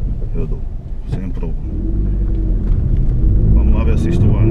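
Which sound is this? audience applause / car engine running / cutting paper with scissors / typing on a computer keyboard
car engine running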